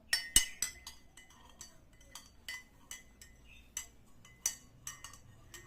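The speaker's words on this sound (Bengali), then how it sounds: "চামচ দিয়ে ভালো করে মিশিয়ে দাও" A spoon stirring freshly squeezed juice in a glass, a run of sharp, scattered clinks and taps of metal against glass over a quiet background, some louder than others.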